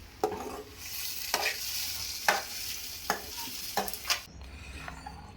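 Sizzling hot tempering gets stirred into mashed drumstick greens, bringing bright crackling hiss with repeated sharp scraping strokes of a spoon against the pan, close and moderately loud.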